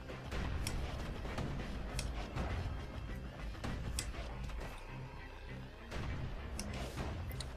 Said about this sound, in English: So if you draw it back all the way, you get a power shot with the bow.